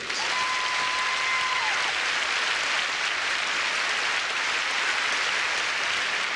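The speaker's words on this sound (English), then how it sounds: "Along with the applause of our audience, you have the gratitude of everyone associated with the pageant." Broad, dense applause from the audience at the Miss Universe 1987 beauty pageant fills the hall, a steady, even roar of clapping with no voices over it, holding at constant loudness for several seconds.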